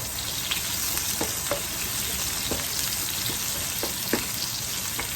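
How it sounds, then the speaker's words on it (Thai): Chillies fry in hot oil in a pan for a Thai son-in-law eggs dish, giving a steady close sizzle with scattered sharp pops and crackles throughout, with no talking. "ผมก็จะใส่พริก ทอดลงไปด้วยนะวันนี้นะ"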